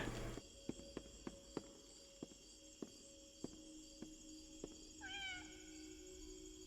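A video game cat gives a single soft meow near the end. Steady cricket-like insect chirps and light, regular ticking or footstep sounds run through the quiet ambience before it.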